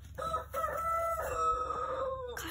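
A grown backyard chicken gives a drawn-out, strained crowing call, close and steady for about two seconds with a short cluck at the start.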